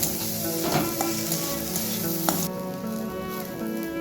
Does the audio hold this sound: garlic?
yes